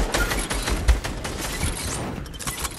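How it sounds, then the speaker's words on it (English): Rapid, dense gunfire crackles in the Fortnite video game, with clustered shots and a heavier thump near the start, loud and continuous for a few seconds without talk. "all you're doing is just shooting everyone"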